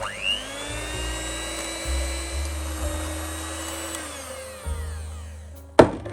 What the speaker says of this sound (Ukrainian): це ще нестабільний крем, потрібно збити